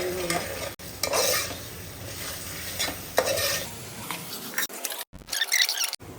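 A spoon stirs browned onion and garlic in a hot pan for Agri-style country chicken curry, with steady sizzling and repeated scraping strokes and brief pauses between them.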